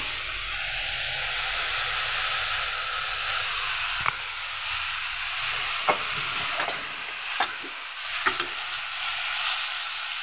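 Amaranth greens fry in a pan with previously fried eggplant and potato, giving a continuous close sizzle broken by a few sharp clicks of stirring.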